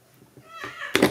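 A house cat meows indoors, a short rising call that swells at the end after a few soft thumps, with no voices over it.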